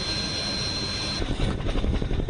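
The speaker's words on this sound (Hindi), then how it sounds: "अपाचे हेलीकॉप्टर की तस्वीरें आप देख रहे हैं जिसके जरिए रात में वहां पर एयर सॉटी की गई" An Indian Air Force Apache attack helicopter on a night sortie makes a loud, steady roar, with its rotor chop pulsing more clearly in the second half.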